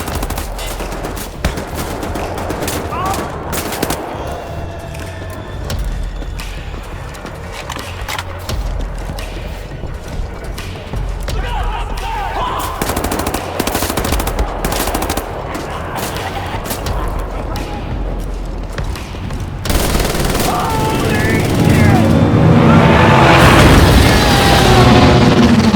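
Dense machine-gun and rifle fire with booming impacts in Wolfenstein: The New Order, loud and continuous, thickening into a heavier barrage near the end, with a voice occasionally calling out beneath the shooting.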